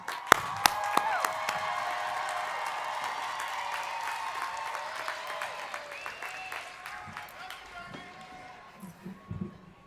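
Graduates at the 2019 USC social work school commencement giving a long round of applause, dense clapping filling a large hall and slowly thinning out toward the end, with scattered individual claps standing out.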